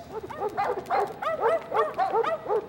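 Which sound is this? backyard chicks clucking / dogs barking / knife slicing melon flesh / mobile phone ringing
dogs barking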